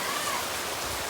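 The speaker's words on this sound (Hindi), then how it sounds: "ये देखो भाई बारिश हो रही है यार" Rain falling outdoors, a dense, even hiss of steady rainfall, close and continuous through the short stretch.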